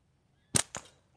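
Two sharp gunshots at shooting targets ring out about a fifth of a second apart, the first louder, each with a brief decaying tail against a quiet background.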